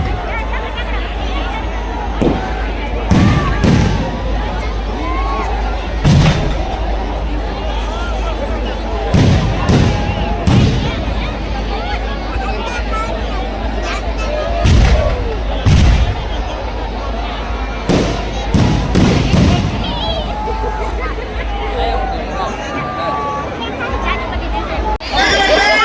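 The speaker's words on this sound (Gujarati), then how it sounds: "આતશબાજી ચાલુ છે તાણે." Loud fireworks explode at a large Ram Navami street procession in Una, Saurashtra, firing in irregular clusters of sharp bangs over about twenty-five seconds, with a dense, noisy crowd murmuring and calling throughout.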